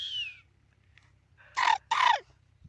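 A boy imitates a parrot's call with his voice, giving a high whistled note followed after a pause by two loud, harsh squawks close to the mic, with no talk.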